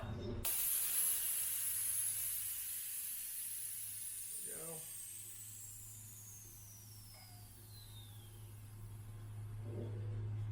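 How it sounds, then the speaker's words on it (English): Air hisses steadily out of the valve of a tubeless bicycle tire on a Cervelo P5X, a continuous high spray that slowly fades over about ten seconds, with faint background noise. "I'm going to go to this valve over here and let the air out"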